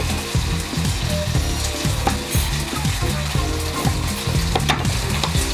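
Beef and broccoli sizzle and crackle loudly in a hot wok during a stir fry, with steady frying hiss broken by repeated scraping and tossing clatters of the utensil against the pan, close up and with no talk.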